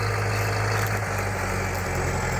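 Massey Ferguson 5711 tractor fitted with an FJ Dynamics autopilot, its diesel engine droning steadily at a low, even pitch during an automatic headland turn, close and continuous with no speech.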